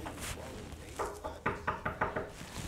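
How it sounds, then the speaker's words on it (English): Knuckles rap on a door: faint taps at first, then a series of about six louder, evenly spaced knocks, with no one talking. "Go answer the door, Savannah."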